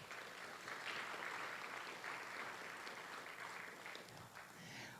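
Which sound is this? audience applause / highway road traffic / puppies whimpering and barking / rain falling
audience applause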